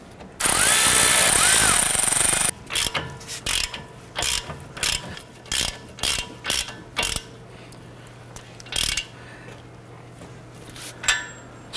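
A ratchet snugs down bolts on the front strut assembly of a 2009-2015 Honda Pilot, sounding as a near run of quick clicking bursts. A steady mechanical ticking opens the passage, and no one speaks.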